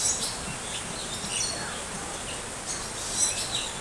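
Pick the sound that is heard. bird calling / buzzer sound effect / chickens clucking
bird calling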